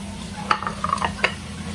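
Onions, spices and pumpkin fry in a pan with a soft steady sizzle, while a few quick clinks and scrapes of stirring ring out close by.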